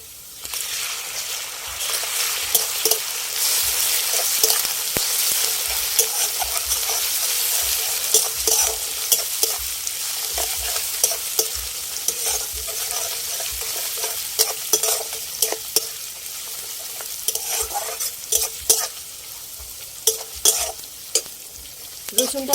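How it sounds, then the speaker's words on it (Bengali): Garlic paste fries with browned onions, whole dried chillies and cumin in a pan, a strong steady sizzle with frequent spatula scrapes and taps from stirring, close up and without talk. "পেঁয়াজের উপরে দিয়ে রসুনটাকেও ভেজে নিয়েছি"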